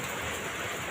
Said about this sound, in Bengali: জল মানে বৃষ্টি হচ্ছে, তোমরা হয়তো আওয়াজও পাচ্ছ